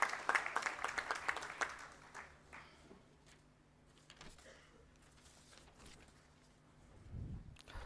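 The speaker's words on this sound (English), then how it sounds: "A big round of applause for his achievement." Applause from a seminar audience honouring a colleague's achievement in branch audit automation, a burst of clapping at the start that fades into a quiet room before a low thump near the end.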